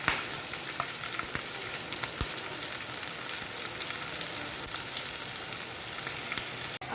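Green chilies frying in a pan with rock salt for a fasting meal, an even, dense sizzle running throughout, punctuated by a few sharp stirring clicks, with no talking.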